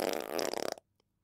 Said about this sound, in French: Frankie Prout faisait toujours de gros pets.